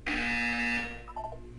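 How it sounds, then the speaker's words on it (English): A buzzer in the Portal 2 video game sounds once, a harsh, steady electronic drone lasting under a second, then fades into quieter electronic tones. "When you hear the buzzer, look down at the floor."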